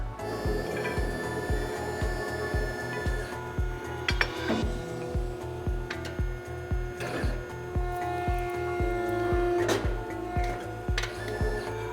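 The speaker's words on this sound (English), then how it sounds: "Now let's bend a piece of 1/2 inch by 2 inch flat bar." Euromac Digibend 400 CNC horizontal press brake bending 1/2 by 2 inch steel flat bar, heard as a steady, close mechanical pulsing thump with occasional metallic clicks and clanks, with no voices.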